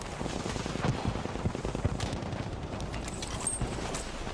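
Sustained machine gun fire on a Battlefield V multiplayer battlefield, a dense, continuous rattle of overlapping gunshots from several weapons at mid distance, with no clear pauses across the whole stretch.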